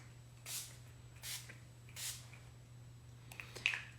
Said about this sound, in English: a finishing spray.